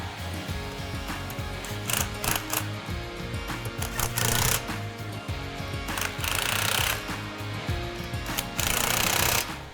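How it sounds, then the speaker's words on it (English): Impact wrench tightening bolts on a PVP double disc pump during in-place maintenance, loud rattling hammering bursts repeating over machinery background with no talk. "So we're going to use an impact wrench to get the bolts tight."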